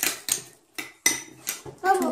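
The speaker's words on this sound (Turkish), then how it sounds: "Benimki de ben karıştırıyorum." Homemade slime being stirred in a bowl, a utensil clattering and knocking against the sides in several quick, close, fairly loud bursts, with a voice briefly audible near the end.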